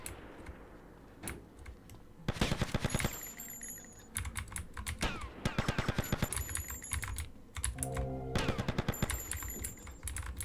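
Gunfire in GTA Vice City comes as several rapid automatic bursts of sharp cracks, loud and close, separated by short gaps with lighter clicking in between.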